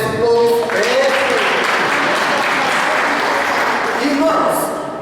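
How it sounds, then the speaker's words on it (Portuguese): A prayer-meeting congregation breaks into sustained applause, a thick even wash of clapping with a few voices rising above it before it fades slightly at the close. "Vamos aplaudir esse povo esperto."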